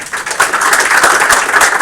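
Audience applause at a game studio build review, a dense wash of many hands clapping steadily at moderate loudness with no talk over it.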